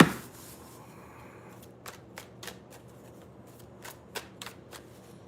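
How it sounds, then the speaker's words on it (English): Tarot cards being shuffled and drawn, a series of crisp, papery snaps and flicks that come in an uneven rhythm up close after a brief rustle at the start. "Let's get the next card out."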